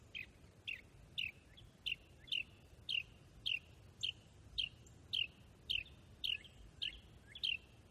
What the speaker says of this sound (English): Hi, bird.